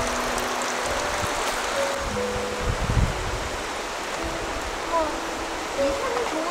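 Water from a mountain stream rushes in a steady broadband hiss throughout, fairly loud and close, with faint tonal chirps and a few brief thumps over it.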